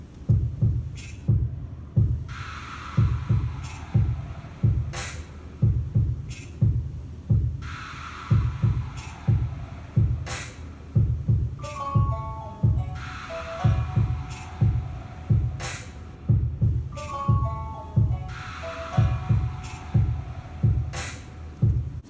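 A home-made beat with melody recorded in GarageBand: a steady, punchy low drum pattern thumps in a regular loop, with brief melodic note runs appearing over it partway through, no talking.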